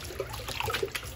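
Beans are rinsed and scrubbed by hand in a basin of water for pupusas, giving close, soft sloshing and trickling splashes in brief irregular bursts without any talk.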